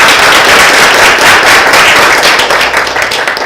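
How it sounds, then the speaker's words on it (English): A room full of people gives a loud, dense round of applause for a speaker at an area club speech evaluation meeting, the clapping sustained throughout and only slightly thinning near the end. "A round of applause to Edwin, ladies and gentlemen."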